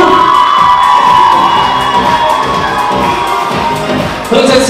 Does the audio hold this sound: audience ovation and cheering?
yes